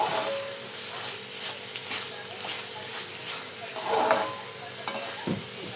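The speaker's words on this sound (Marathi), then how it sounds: "आणि छान सगळं असं मिक्स करून घेणार आहे आपलं मसाला आणि चवळी." Masala and cowpeas are stirred together in a pan, with repeated scraping strokes over a soft sizzling hiss. A clatter comes toward the end, and there is no clear speech.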